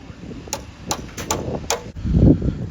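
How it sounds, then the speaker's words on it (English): Hammer blows knock a stuck part loose while restoring an old first-generation truck: several sharp, evenly spaced metallic strikes ring out close by over a low, noisy rumble, with a heavier thud near the end. "Just need a hammer, man. You hit it right there, it's gonna come off."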